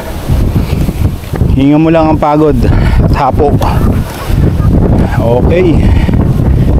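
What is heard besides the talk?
wind on a mountain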